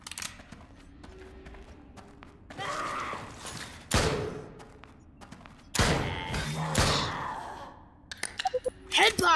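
Gunfire from the video game Drop Dead: Dual Strike, several sharp loud shots spaced irregularly across the clip, with busy game noise between them and no talk.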